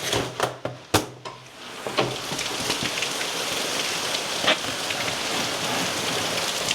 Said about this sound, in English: This rain is coming down.